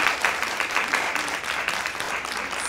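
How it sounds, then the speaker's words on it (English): An audience applauds in a conference session studio, a steady, dense round of clapping that holds evenly throughout with no talking over it. "Let's give them a round of applause"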